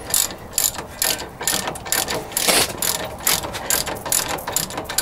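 A hand ratchet with an extension tightens a bolt on a 2004 wheel hub assembly, giving quick bursts of crisp clicking pawl strokes in a repeated pumping rhythm, close and clear with no talking.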